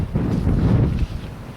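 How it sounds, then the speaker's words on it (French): Strong outdoor wind buffeting the microphone on a hiking trail, a steady loud low rumble that eases slightly near the end, with no talk. "il y a du vent"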